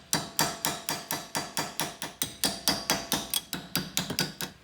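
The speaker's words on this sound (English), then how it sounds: "put the chisel against the side and just tap this way and it should pop it off like that" A hammer strikes a chisel held against a rear wheel dust cap on a Mitsubishi Pajero Gen 4 hub: a rapid, steady series of about twenty sharp metallic taps, close and clear with no talking.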